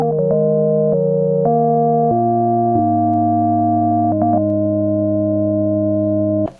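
Roland S-1 synthesizer preset running a pattern of held, pure sine-like notes that step between pitches in a slow sequence, loud and alone before cutting off at the end.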